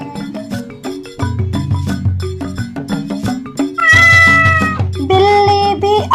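Cartoon cat meowing repeatedly in a Hindi-Urdu children's nursery rhyme, bright and loud over a bouncy musical backing, with several drawn-out, rising meows toward the end.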